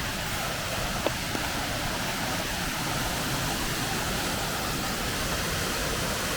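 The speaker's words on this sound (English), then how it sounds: "More view of the falls through the trees." Steady broadband rush of a waterfall sliding down rock at Daniel Ridge Loop in the North Carolina woods, continuous and fairly close, with no voices.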